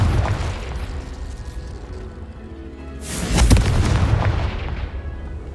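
Confringo fire-blast spell exploding in the video game Hogwarts Legacy, a deep booming blast bursting out around the three-second mark over a rumbling low background, then decaying into a long roar.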